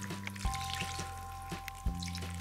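Water is poured from a bucket into a small homemade pool, a brief, faint splash and trickle lasting a couple of seconds.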